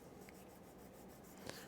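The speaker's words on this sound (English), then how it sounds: "start erasing all of the pencil." Eraser rubbing out pencil lines on paper, a faint soft continuous scrubbing with rhythmic back-and-forth strokes and one slightly sharper scrape near the end.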